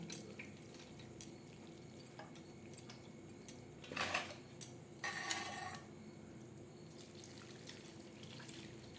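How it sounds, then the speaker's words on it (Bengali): Cold tap water running over boiled chow mein noodles in a strainer, heard as a steady low hiss. Two louder splashing bursts rise out of it midway, with faint clinks around them. "আবারও ঠান্ডা জল দিয়ে ধুয়ে নেব যাতে একটার গায়ে একটা লেগে না যায়"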